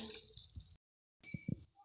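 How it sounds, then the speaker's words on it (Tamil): Water poured into a pot of potato kurma gravy, a soft hissing splash in two short bursts with a brief silence between. "குழம்புக்கு தேவையான அளவு தண்ணி சேர்த்து நல்லா குழம்ப கொதிக்க விட்டுக்கலாங்க."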